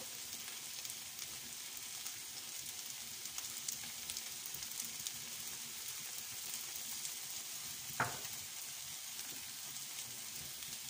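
Udon noodles stir-fry with soy sauce in a pan, giving a soft, even sizzle throughout with one brief knock partway through.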